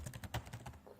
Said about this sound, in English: I can still hear the computer typing